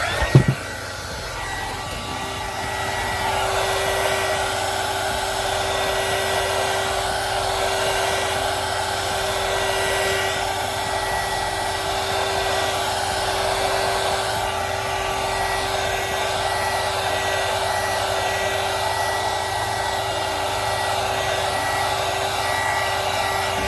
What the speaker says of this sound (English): And using these guns or hair dryers, whatever you have, makes this go faster.